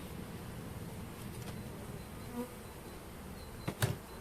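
Quiet, steady honeybee buzzing at a hive on a 15 °C February day fills the background, with a couple of brief louder knocks near the end.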